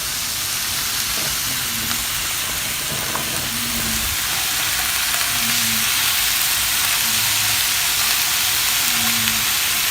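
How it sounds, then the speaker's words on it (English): Yellow pepper and other vegetables sautéing in steak pan juices for a chowder, a loud, steady sizzle up close with occasional light scrapes of a spoon and some brief squeaky tones. "We're going to just saute them in the pan juices for just a couple of minutes"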